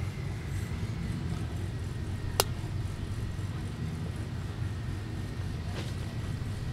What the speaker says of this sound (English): That's how a turbo car should sound, like that.